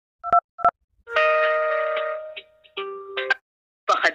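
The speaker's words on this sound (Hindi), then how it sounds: "उसी अकाउंट नंबर का आपको UPI पिन यहां पे इंटर करना है" DTMF keypad tones sound during a UPI 123Pay phone call as a UPI PIN is entered: two short clean beeps, then longer sustained tones, then a final brief burst, all close and clear.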